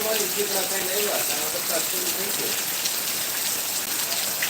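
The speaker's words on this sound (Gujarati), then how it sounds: "ક્યાં ગામમાં વરસાદ પડે છે" Steady rain pours down in a Gir village in Gujarat, a dense continuous wash of drops hitting surfaces close by, unbroken across the whole stretch, with no talk.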